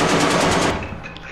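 A turret in Lethal Company firing a loud rapid stream of machine-gun shots up close, cutting off abruptly and leaving a fading tail.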